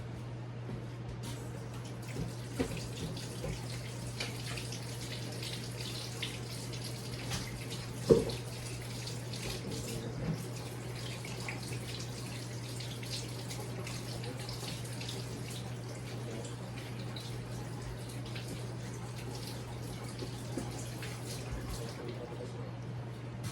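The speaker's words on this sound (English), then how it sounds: "I need to go ahead and get these celery stalks washed up real quick, and these carrots washed up real quick." Celery stalks and carrots rinsed under a running kitchen tap give a steady, even hiss of flowing water for the whole stretch, with a single soft knock partway through.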